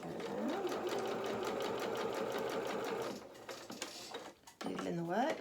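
A sewing machine runs at a fast, even whir while stitching fabric for a doll's bloomers, then slows and stops with brief mechanical clicks and handling sounds before starting up again; a quiet voice is faintly present.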